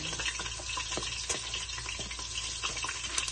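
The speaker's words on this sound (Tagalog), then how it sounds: "Tirahin na natin muna ng bawang." Garlic sautéing in oil in a pan for humba, giving a steady, close, dense sizzle with faint crackles and stirring throughout and no talking.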